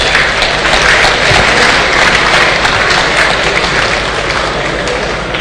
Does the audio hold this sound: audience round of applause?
yes